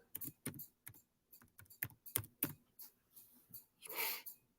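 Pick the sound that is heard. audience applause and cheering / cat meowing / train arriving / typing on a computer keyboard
typing on a computer keyboard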